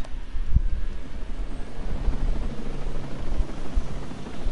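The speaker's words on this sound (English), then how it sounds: "Is this my helicopter?" A helicopter in a video game gives a steady low rotor drone that holds throughout, with a few soft thumps and no talking.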